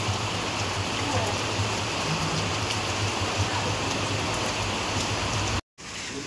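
Steady monsoon rain falls in Dhenkanal, Odisha, a dense continuous patter with a constant low hum beneath, briefly cut by a short gap near the end.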